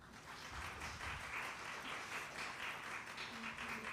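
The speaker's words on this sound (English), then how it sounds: "May I ask you guys just to give them one more round of applause?" Faint, steady applause from an audience at a Queen Emma birthday celebration at Harkness, an even patter of many hands filling the whole stretch at a distance.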